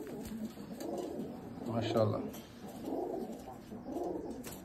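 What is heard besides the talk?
Rajshahi Giribaj pigeons cooing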